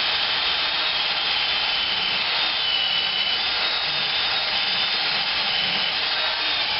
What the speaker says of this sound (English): You hold your drill at an angle on it.